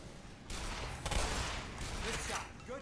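Bursts of rapid gunfire from the Black Mesa first-person shooter game, a dense muffled volley of shots rolling over about three seconds at moderate loudness.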